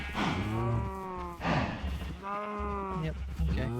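Blocky game cows in Minecraft moo in long, drawn-out calls, two or three overlapping lows one after another, loud and close and heard alone.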